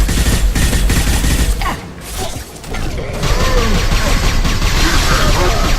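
Rapid gunfire in the video game Mass Effect 2 rattles loud and dense, with a short lull and a whoosh before the sustained automatic bursts resume, close and dominant.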